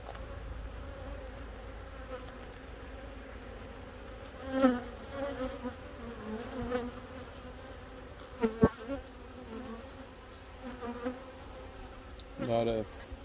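Honey bees buzz in a dense steady drone inside a packed hive being checked before winter, with a few louder nearby bees flying past and occasional soft knocks of handling.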